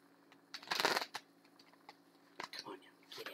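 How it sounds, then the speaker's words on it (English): Tarot cards shuffle in short, crisp bursts of riffling and slapping, one long flurry and then several quicker handlings, close and quiet. "And you can see I shuffled them out."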